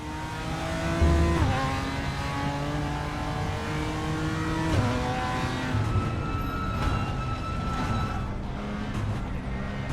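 A race car engine revs in a racing video game on the Sepang circuit, a continuous loud engine drone that climbs and drops through gear changes, with no talking.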